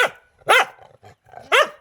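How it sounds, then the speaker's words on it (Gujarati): Two sharp, loud barks from a guard dog about a second apart, close by, with a softer yelp at the start and quiet gaps between. "પછી અહીંયા એક કૂતરો છે ચોકીદારી માટે।"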